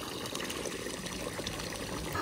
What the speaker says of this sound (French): une source, on va se ravitailler, ça c'est chouette. Et voilà, de l'eau à flot